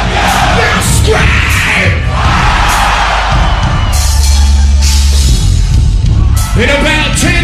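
A festival crowd at a rock concert, Rock Am Ring in Germany in 2001, screams and yells continuously and loudly, a dense wall of massed voices with whoops rising through it and no pause.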